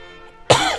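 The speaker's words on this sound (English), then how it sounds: "Oh, I got a cough." A single sharp cough bursts out suddenly after a quiet moment, close and fairly loud.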